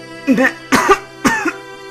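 Three short coughs, spaced about half a second apart, close and fairly loud with no other sound between them.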